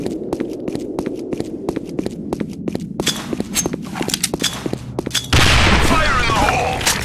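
Grenade blasts and rapid gunfire from the Sudden Attack video game in siege mode, with a steady string of sharp close shots that builds into a loud, sustained roar of explosions.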